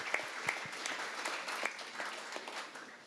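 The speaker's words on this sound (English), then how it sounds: "So give them a round of applause" Steady applause from an audience at a Politics and Pints 2023 talk, many hands clapping evenly for a few seconds with only faint voices.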